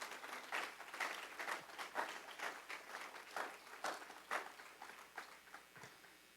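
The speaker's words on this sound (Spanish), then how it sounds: "Que nos darán aplauso a nuestro Señor en esta tarde." Church congregation clapping at an evening service, a soft, distant patter of applause with uneven pulses that swell and fade for several seconds.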